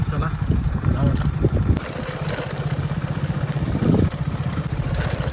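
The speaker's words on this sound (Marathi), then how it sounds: "आता बाईक आपली काढलेली आहे." A motorbike engine runs with a rough, steady idle close by, while a voice talks over it.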